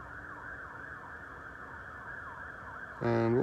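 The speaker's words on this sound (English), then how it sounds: "You can probably also hear a police car." A police car siren wails faintly in the distance with a rising and falling tone, then a louder harmonic burst near the end over steady background hum, heard outdoors at dusk.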